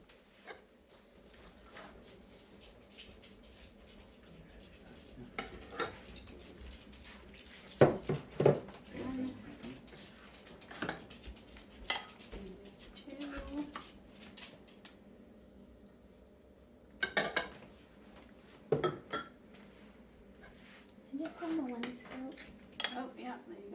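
Plates and utensils clink and scrape as a home-cooked meal is served, with scattered sharp knocks of cutlery against dishes and pans in a kitchen, separated by quieter gaps and occasional talk.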